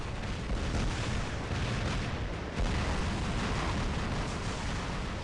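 Detonation in War Robots producing a dense, sustained roaring explosion with rumbling debris, loud and continuous, with a brief dip midway before the blast noise swells again.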